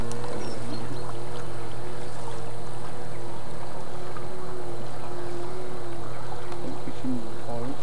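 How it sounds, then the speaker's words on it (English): A low, steady fishing boat engine drone throbs continuously beneath water noise, like an old tugboat chugging along at close range. "Sounds like an old tug, doesn't it?"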